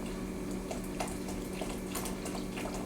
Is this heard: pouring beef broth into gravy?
yes